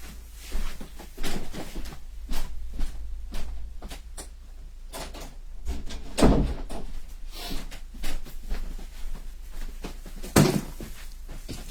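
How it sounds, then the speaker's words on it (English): An indoor door being pushed shut, a few soft knocks and thuds scattered over low background hum, with one firmer closing thump partway through and another near the end. "I am going to close that door really quick."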